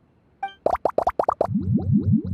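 Ingredients such as lizard tails, fish scales, mucus and slime condensate drop into a drink in the Genshin Impact game, starting with a brief chime, then a quick run of about seven bright, bouncy plops that gives way to softer bubbling blips.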